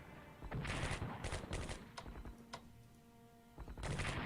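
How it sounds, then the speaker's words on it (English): Defensive artillery in the Strategic Command WWII strategy game fires in several dense, rattling bursts with pauses between them, set against a low tonal hum. "Defensive artillery."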